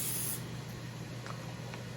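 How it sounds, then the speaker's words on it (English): A short burst of cooking spray hisses at the start onto a Ninja Foodi grill before frozen chicken breasts go on, then gives way to a steady low hum with faint background noise. "I'm gonna spray down."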